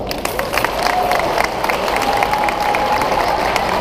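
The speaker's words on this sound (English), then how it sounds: "So please, I ask you all to give yourself a round of applause." A crowd at a 2018 high school graduation applauds loudly, dense clapping mixed with scattered cheers and whistles, all at close range and holding steady throughout.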